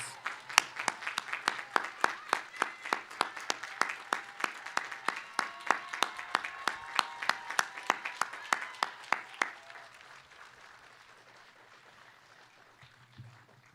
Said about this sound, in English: say thank you with another spirited round of applause for their support